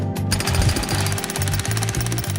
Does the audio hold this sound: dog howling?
no